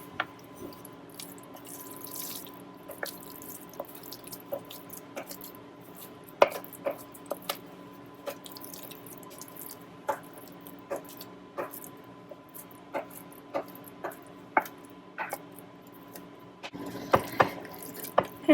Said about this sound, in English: I'm just going to pour it in there as best I can.